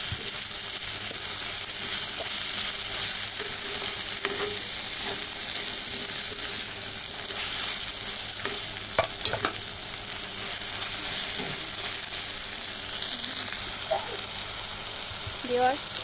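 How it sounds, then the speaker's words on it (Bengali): Tomato and ground spices fry in a pan for potato curry, giving a loud, continuous sizzle with occasional stirring scrapes from start to finish. "আমার এই টমেটো এবং মশলাগুলো হালকা করে একটু ভেজে নিচ্ছি"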